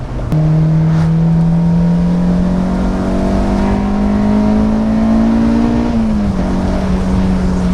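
A Honda S2000's engine revs hard and climbs steadily as it hits VTEC during a test drive, a loud sustained rising whine that drops briefly near the end, close and alone with no talk.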